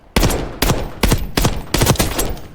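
Loud, close bursts of full-auto fire from an AEK-973 rifle in Black Ops 6: five rapid rattling volleys in quick succession, separated by short pauses.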